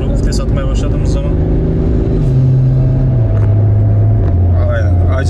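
BMW 535d twin-turbo diesel with an automatic gearbox downshifting, its engine note stepping down in several distinct drops of rev pitch while someone talks over the steady interior rumble.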